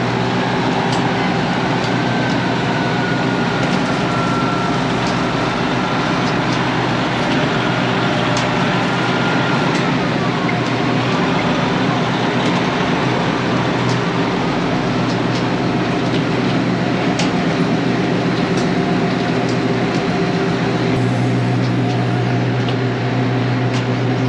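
A loaded B-train grain truck pulls in to line up for unloading at a new feed mill, its steady heavy engine rumble and rolling drone sustained throughout, with a slight shift in tone near the end.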